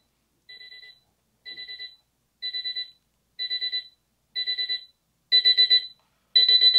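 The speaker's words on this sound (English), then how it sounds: "you can mess with the alarm sounds" A USCCE small LED digital alarm clock beeps in short bursts of rapid tones, repeating about once a second and growing louder with each round.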